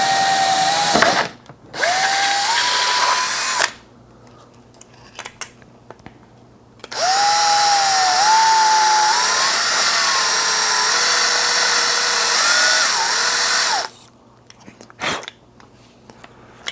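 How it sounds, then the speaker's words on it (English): A power drill bores a hole in a polymer magazine holder for an airsoft rifle, in two long whining bursts of a few seconds each, the motor pitch climbing as it spins up, with quieter handling noise between bursts. "So I'm going to start by drilling a hole right here real quick."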